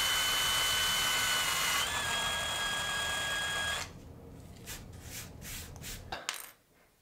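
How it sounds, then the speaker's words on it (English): Small drill boring out a rivet on a vintage Matchbox die-cast car, a steady high whine for several seconds close up, followed by light metallic taps and clicks as the bit stops. "I got one little rivet to drill out here"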